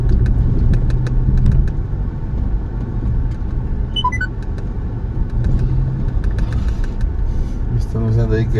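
Road traffic on a highway near Chimaltenango, Guatemala, heard from inside a moving car as a constant low engine and tire rumble, with faint voices and a couple of brief navigation chimes over it.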